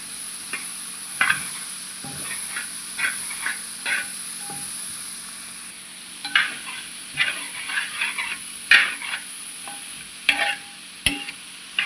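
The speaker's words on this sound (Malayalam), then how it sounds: "ഇളക്കി മിക്സ് ചെയ്ത് കൊടുക്കണം." A spoon stirs and mixes food frying in a pan, giving irregular scraping knocks and clatters over a soft continuous sizzle, close and fairly clear, with no talking.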